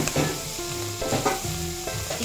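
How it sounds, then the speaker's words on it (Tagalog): Beef sizzles loudly in a hot pan with salt and pepper while a utensil stirs it in quick, repeated scraping strokes. "Igigisa natin maigi mga karaketeras para hindi malangsa."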